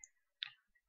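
A single soft computer mouse click in Excel, faint and close, stands alone in near silence with a few tiny ticks around it.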